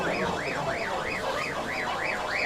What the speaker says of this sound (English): oh, is that a car alarm?